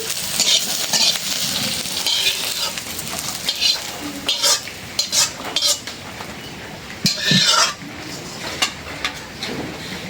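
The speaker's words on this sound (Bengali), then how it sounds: "পেঁয়াজ রসুন ভাজে নিলাম" Onion and garlic sizzle in a pan while a utensil stirs and scrapes against it, with intermittent clinks and rustling bursts.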